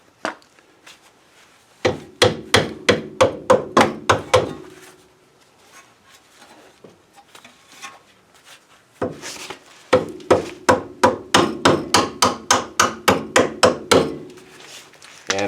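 Loud, sharp metallic hammer taps on the spindle and CV axle of a 2007 Honda Accord, struck in two quick rhythmic bursts of about a dozen blows each, separated by a quiet pause with faint scattered knocks.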